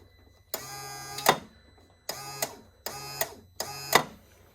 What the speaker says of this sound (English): sump pump, a bilge pump is supposed to work. Just like that.